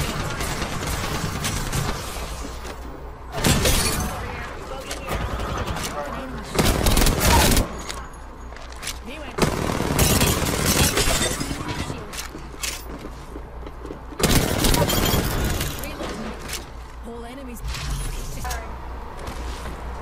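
Gunfire in the video game Apex Legends comes in bursts of rapid shots and heavier blasts amid mechanical clanks, loud and close at intervals across the stretch.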